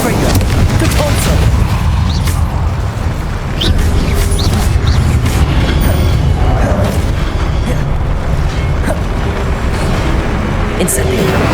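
Confringo and Detonto spell explosions in Hogwarts Legacy burst as loud, dense booms and crackling blasts in a continuous chaotic barrage of combat effects.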